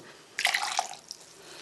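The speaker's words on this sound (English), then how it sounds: "All I've got to do is strain it through a cloth" Gelatine stock from a boiled pig's head, feet and tail strains through a cloth, giving a brief run of close, light liquid drips and trickles that fade after about a second in a quiet room.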